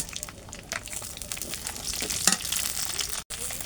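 Ground tempering spices hit hot oil in a pan, a soft continuous frying sizzle with light crackles and a brief stir, fairly quiet and close.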